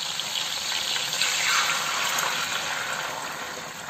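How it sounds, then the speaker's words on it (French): Two large glasses of water pour into a cooking pot for a marinated oxtail stew, a steady rushing splash that holds for several seconds, close and fairly loud. "on va venir y mettre deux grands verres d'eau"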